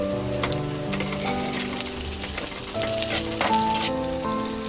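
Golden-browned onion with green chillies and curry leaves frying in hot oil, a loud continuous sizzle with sharp crackles and spattering bursts, heard close and without voices.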